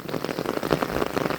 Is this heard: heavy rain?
yes